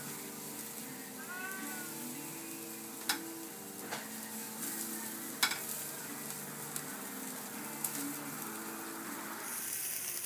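Portabella mushrooms and corn sizzle on a grill with a soft, steady frying crackle, broken by a few sharp ticks and pops and a faint mewing sound, with no voices.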